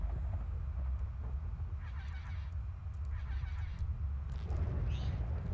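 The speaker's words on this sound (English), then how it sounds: "I don't appreciate the bird." A goose-like bird in the game Webbed honks a few times, faint and somewhat distant, over a low steady background hum.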